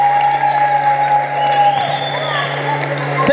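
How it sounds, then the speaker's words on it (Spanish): A children's audience claps and cheers for a five-year-old boy, a lively burst of applause with whoops, while a steady electronic tone and some voices run underneath. "Un aplauso para Pietro."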